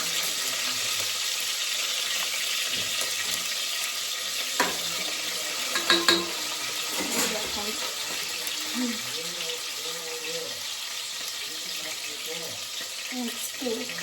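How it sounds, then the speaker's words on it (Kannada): Onion frying in a pan in a home village kitchen, a steady faint sizzle running throughout with a few brief clinks and stirring scrapes around the middle. "ಸೊ ಅದನ್ನು ಸ್ವಲ್ಪ ಫ್ರೈ ಮಾಡಿಕೊಂಡು ಅದಕ್ಕೆ ಒಂದು ಈರುಳ್ಳಿ ಅವಾಗಲೇ ಹೆಚ್ಚಿಟ್ಕೊಂಡಿದ್ದು ಆ ಒಂದು ಈರುಳ್ಳಿ"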